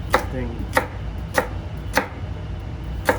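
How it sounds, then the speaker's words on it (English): A knife rough-chops carrots on a cutting board for a shrimp poaching liquid, landing five sharp, evenly spaced thuds about two-thirds of a second apart, close and clear over a faint background hum. "Cut up carrot. Rough chop everything."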